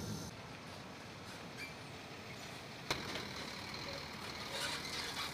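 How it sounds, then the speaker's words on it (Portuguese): Truck passing by on a road out in nature, a broad, faint rumble and hiss that swells gradually, with a sharp click partway through and some rattling near the end. "Deixa esse caminhão passar aqui."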